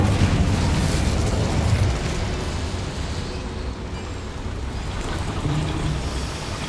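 An Incendio fire spell in Hogwarts Legacy bursts into a loud, roaring explosion of flame that fills the scene with dense rumbling noise and slowly settles into a sustained crackling whoosh.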